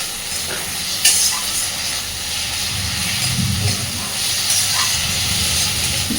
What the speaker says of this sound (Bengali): খুব ভালোভাবে এগুলোকে একটু ভাজতে থাকবে